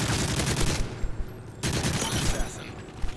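Rapid, dense automatic gunfire from a Call of Duty: Modern Warfare 3 multiplayer match rattles almost without pause, with a short lull midway, while a voice talks faintly underneath.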